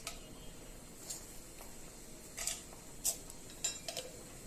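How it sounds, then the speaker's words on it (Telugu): Tempering seeds crackle in hot oil while cooking a drumstick and tomato curry, giving faint, sparse ticking pops against a quiet background hiss. "సో ఇప్పుడు ఆయిల్ వేడైంది కదా, ఇందులో తాలింపు గింజలు వేసుకుందాము."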